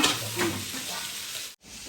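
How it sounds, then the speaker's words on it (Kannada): Fish frying in a pan at home for lunch, a steady close sizzle with faint stirring, cut by a brief drop to silence near the end. "ಅಮ್ಮ ನಮಗೆ ಮಧ್ಯಾಹ್ನಕ್ಕೆ ಮೀನು ಫ್ರೈ ಮಾಡ್ತಾ ಇದ್ದಾರೆ"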